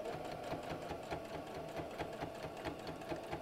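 Sewing machine stitching slowly and carefully over wire on an Easter bunny door hanger decoration, a steady rapid mechanical whir with regular ticking stitch beats, fairly quiet and close.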